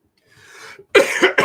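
A soft breathy exhale, then two sharp close coughs in quick succession.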